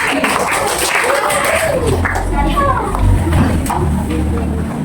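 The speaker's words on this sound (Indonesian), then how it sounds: "Oke, tepuk tangan untuk kelompok ini." A class applauds a student group with scattered clapping under a teacher's voice and murmuring children, the claps fairly faint and intermittent beneath the talk.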